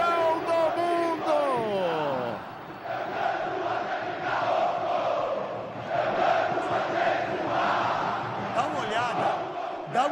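Corinthians supporters packing the Maracanã stadium, a big crowd chanting and roaring in a sustained wash of voices, distant and reverberant, with a raised voice near the start.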